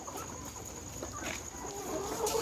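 Faint clucks and scattered calls from nearly two-month-old chickens on a farm drift through a steady background hum, soft and somewhat distant.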